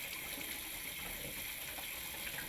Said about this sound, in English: Turn on both hot and cold water supplies. Flush water lines for about 1 minute.